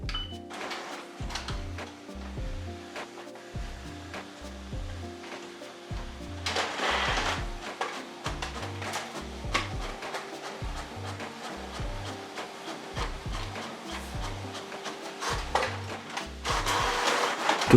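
A Canon MAXIFY GX7100-series inkjet multifunction printer runs a copy job, a steady mechanical whir with rhythmic, repeating low thumps and shuttle movements, fairly close and without voices.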